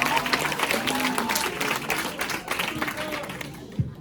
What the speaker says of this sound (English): Y'all definitely give her an applause